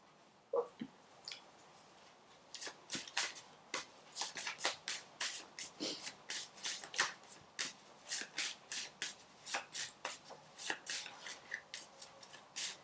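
Channel of Love oracle cards being shuffled by hand, a close, rhythmic series of sharp papery slaps and riffles building after a quiet start and repeating steadily, with no talking.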